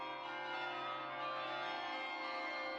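Church bells at the Mafra palace basilica in Portugal ring in a dense, sustained wash of overlapping metallic tones, steady and resonant throughout with no voices.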